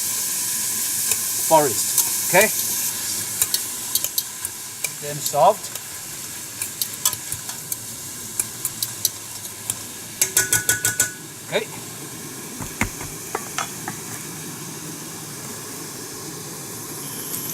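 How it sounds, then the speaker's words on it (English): Close, steady sizzling of Taiwanese fried noodles being stir-fried in a pan, with scraping stirs and clinks of a utensil; a person talks briefly near the start. "I politely invite this delicate sizzling sound into our"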